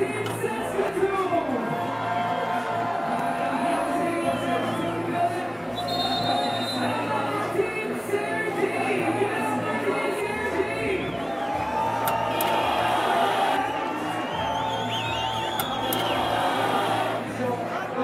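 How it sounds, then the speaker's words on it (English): Crowd at a FIBA 3x3 World Tour Masters basketball event in Lausanne cheering and whooping for Team Saskatoon, a sustained roar of voices with an announcer's amplified talk over it. "Make some noise for Team Saskatoon!"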